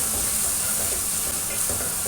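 Spices, salt, chili and tomatoes for an okra dish fry in a pan, giving a loud, steady, close sizzle with continuous hissing and no pauses.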